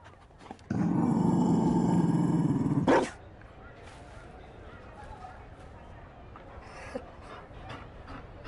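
A Mabari war dog in Dragon Age Inquisition lets out a loud, sustained guttural growl lasting about two seconds, then quieter ambient sounds follow.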